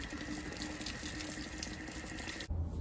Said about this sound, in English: all the water's done flowing out of there